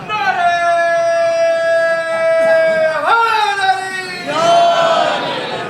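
Crowd at a Punjabi religious gathering in Sargodha chanting back in answer to a slogan, loud massed voices rising and falling in sustained unison tones across the whole stretch.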